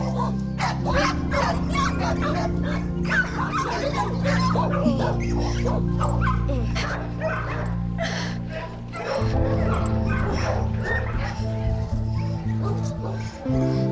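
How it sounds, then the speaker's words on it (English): A sick pit bull whimpers and yips with occasional barks, close and insistent, while people talk nearby over the dog's cries. "Look, this dog can't even walk."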